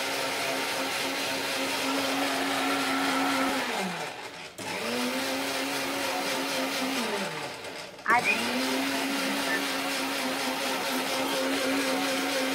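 Mixer grinder whirring steadily as it blends beet juice, the motor pitch dropping and restarting twice in short bursts, loud and close with someone talking over it.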